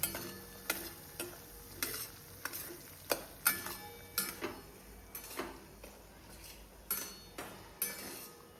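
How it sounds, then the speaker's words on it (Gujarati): A spoon scrapes and taps rhythmically around a pan while semolina for sheera roasts on low heat, with a soft sizzle beneath the close, regular stirring strokes. "આ બધો રવો એડ કરી દીધો છે આપણે એની અંદર. અને આપણે ધીમે તાપે શેકવાનો છે."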